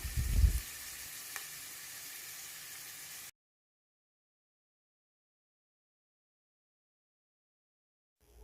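Potatoes browning in hot oil for an aubergine and potato curry, a steady soft sizzle with a brief louder burst at the start, cutting off into silence after about three seconds.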